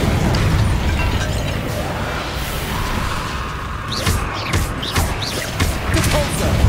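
Fiery blast explosions from the Confringo spell in the wizarding video game Hogwarts Legacy, several sharp bursts and whooshes landing in quick succession over a busy backdrop of game noise.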